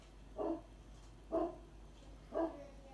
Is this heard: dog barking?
yes